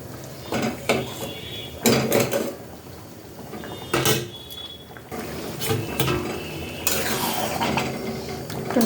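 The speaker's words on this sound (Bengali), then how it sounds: "একটু নিচেটা নেড়ে দিই, না লেগে যেতে পারে।" A tomato dish boiling in a pot over high gas is stirred at the bottom, giving scraping and clinking strokes of utensil on metal in several bursts, close and moderately loud.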